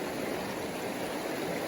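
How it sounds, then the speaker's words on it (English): A busy creek streaming right beside the spot where a California giant salamander is found, a dense, even rush of water that is close and fairly loud throughout, with no talking over it. "Right next to this busy creek here."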